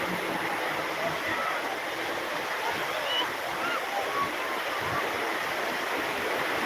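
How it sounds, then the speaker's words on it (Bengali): Waves washing onto a sea beach at Digha, a broad continuous roar of surf at moderate level, with faint voices mixed into the background. "সমুদ্র সৈকতে"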